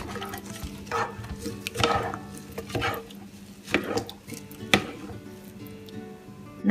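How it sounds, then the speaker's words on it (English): Rice gets mixed in a pot with dark soya sauce, oil and salt: soft wet scraping and stirring strokes come in irregular pulses, with a few sharper knocks against the pot, close and moderately quiet. "and give it a good mix."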